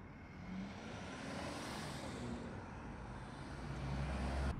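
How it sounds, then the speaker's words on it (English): Steady city street traffic in the background, a continuous low rumble of passing cars and heavier vehicles that swells slightly toward the end, with no talk over it. "there's a lot of traffic in the background."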